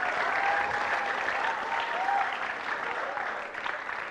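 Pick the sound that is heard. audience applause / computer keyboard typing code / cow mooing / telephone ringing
audience applause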